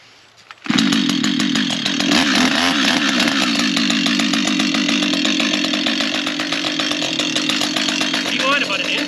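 A Husqvarna 562 XP chainsaw fires up abruptly and roars loud and close while cutting logs, its engine snarl steady with rhythmic revving and chain rasp; voices talk faintly beneath it.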